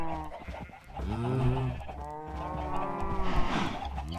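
Several cows moo loudly and close by in a video game, long drawn-out lowing calls overlapping one another with no talking.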